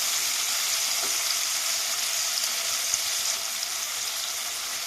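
Shol fish sizzles and fries steadily in a hot pan, close and continuous, with an occasional faint scrape or tap of stirring; no one speaks.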